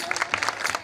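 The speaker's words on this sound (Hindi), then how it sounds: "ताली बजाओ" An audience at a Khatu Shyam devotional kirtan claps along in quick, fairly irregular bursts, close and lively, with no talk over it.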